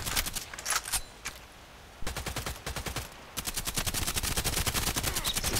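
Gunfire in the online shooter Contract Wars: scattered single shots at first, then rapid, even automatic bursts that grow steady and dense toward the end, moderately loud.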